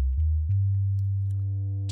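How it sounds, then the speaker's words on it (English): A low, steady sine tone from a VCV Rack 2 synthesizer oscillator, pitched two octaves down, hums continuously for about two seconds after a couple of quick pitch steps at the start, with faint overtones creeping in toward the end. "So all the way over here, and it's going to sound like a sine wave."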